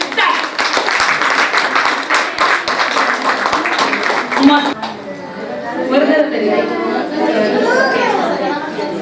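An audience at a Sankranti celebration claps for students: a dense burst of applause for about five seconds, then a voice speaks over lingering crowd noise.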